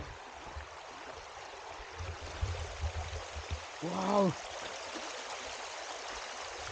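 A river in Nepal, fed by water from the mountains above, rushes in a steady, broad wash throughout. A short exclamation from a voice rises over the flow.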